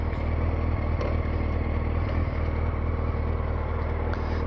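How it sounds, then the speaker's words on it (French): A 2012 Yamaha FZ8 50th anniversary motorcycle engine idles steadily nearby, a low continuous rumbling purr with no talking. "Écoutez-moi ça comme ça ronronne du feu de Dieu."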